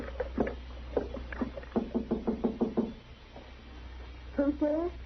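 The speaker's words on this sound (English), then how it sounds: "go ahead and knock" Knuckles rap on a wooden door in an old western radio drama, a couple of quick bursts of several firm knocks close by, followed by a voice speaking.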